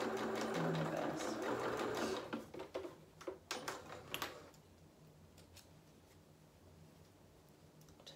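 A sewing machine stitches and reverse-stitches fabric for a doll's angel dress, whirring steadily for about two seconds, then slowing into a few short bursts before the room goes quiet.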